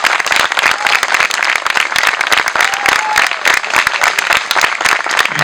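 Loud, dense audience applause welcoming a speaker at a national camp gathering in Argentina, steady clapping close by with no talk over it.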